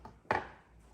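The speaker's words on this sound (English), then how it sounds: "flip these ribs over on the cutting board and let's give them a try" A single sharp knife chop cuts through smoked ribs onto a cutting board, a close, crisp impact that fades into quiet.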